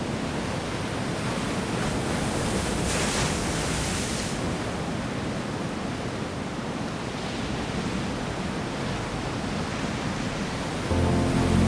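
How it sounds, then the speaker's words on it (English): Dramatic ocean waves on the Oregon coast after a passing storm, a loud continuous roar of surf and wind rushing that holds steady for over ten seconds with no voices. "The remnants of a passing storm left behind dramatic waves and clear skies."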